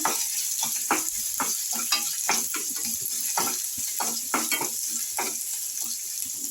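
Ginger and chillies sizzle in hot oil, with a constant hiss broken by irregular sharp pops and crackles close by.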